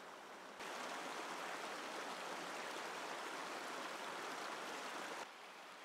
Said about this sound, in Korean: 흐르는 물소리 말고는 평온함이 가득한 깊은 산중